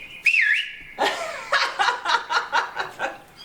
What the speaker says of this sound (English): do you have one more song that you would like to whistle before we wrap up?